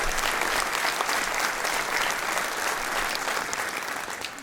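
An audience at a New Year's greetings ceremony in Mennecy, 2016, claps loudly and continuously, a dense, even applause that fades slightly toward the end.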